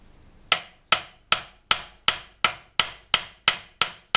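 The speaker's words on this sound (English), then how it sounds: "we're going to tap here on the control arm with the hammer." Hammer tapping on the control arm of a 2005 Acura TL, ten evenly spaced sharp metallic knocks, close and loud, each ringing briefly before the next, no voices.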